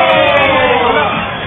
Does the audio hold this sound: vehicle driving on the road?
no